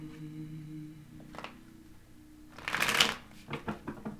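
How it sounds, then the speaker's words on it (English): Tarot cards shuffled up close: a few soft riffles, then a louder, fuller riffle burst midway, with light handling after it. No talking. "spirits want me to shuffle a little bit."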